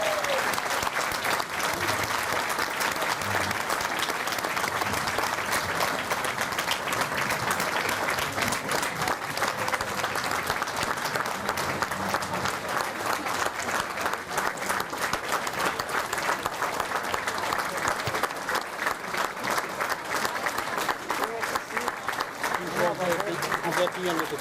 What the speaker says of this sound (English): Another big applause for Mr. Greco.